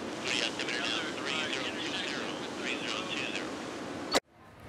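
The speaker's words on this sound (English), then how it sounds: "Right now we're about to start the engine up. Pretty intense, a lot of wind, a lot of noise." A loud, steady roar of a jet engine spooling up with heavy wind rush, a high whine on top, ending in a sharp click and sudden quiet.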